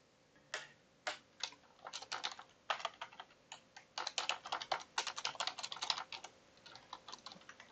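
Code is typed on a computer keyboard, a close, quiet run of crisp key clicks that starts sparse and grows into rapid, steady typing with no talk.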